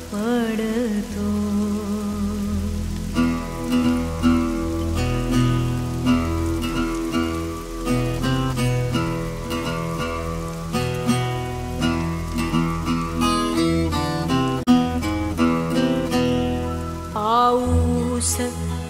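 Steady rain patters throughout, mixed under a Marathi song with instruments playing over it.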